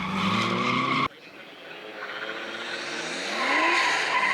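A drift car skids with squealing tires through the infield during a drift competition, a long screeching slide that rises and falls at moderate distance after a loud opening burst of engine and tire noise.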